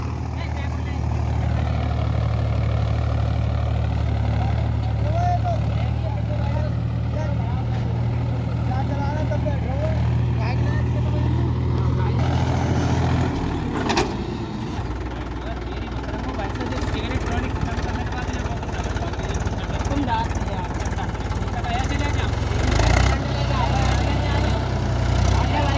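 A tractor engine idles with a low, steady rumble, while someone talks over it for much of the time and the engine note shifts partway through.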